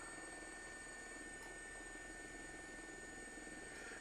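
A helicopter hovers in a VR flight simulator video game, a steady, unbroken rotor and engine drone with a thin high whine, even and continuous throughout.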